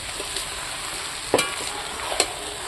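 Mutton sizzles and fries steadily in a pan over a wood fire, a continuous crackling hiss broken by a couple of sharp scrapes from stirring.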